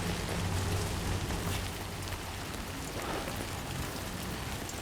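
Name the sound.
Timefall rain in the Death Stranding 2 video game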